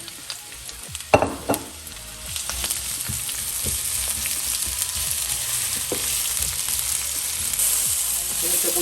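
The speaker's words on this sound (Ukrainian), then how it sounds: "Смажуємо нашу цибульку." Onions sizzle steadily in hot sunflower oil, with a few clinks and scrapes of stirring near the start.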